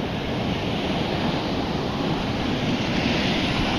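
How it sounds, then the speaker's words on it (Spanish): Ocean waves wash steadily over and around a stone breakwater, a dense, continuous roar of surf lying near and loud throughout, with some wind rumble on the microphone and no voices. "el movimiento de agua tapa casi la escollera"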